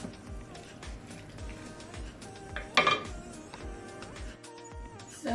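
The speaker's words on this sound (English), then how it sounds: "Just going to give this a mix and let this cook for 2 minutes." Spicy sausage pasta is stirred in a pan with a utensil, giving soft scraping and a brief cluster of metallic clinks, over a steady faint sizzle with light ticking.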